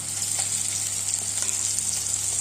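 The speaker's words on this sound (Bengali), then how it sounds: "পেঁয়াজ রসুনগুলি ভাজা হয়ে গেছে। এখন এতে আমি একে একে আদা কুচি," Onion, garlic and chopped ginger frying for chola bhature, a brief steady hissing sizzle with faint stirring and no talk.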